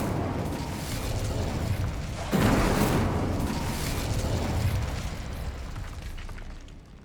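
An Incendio fire spell cast in Hogwarts Legacy bursts into a loud, rushing whoosh of flame over a dense, rumbling game soundscape, then slowly fades away. No one speaks.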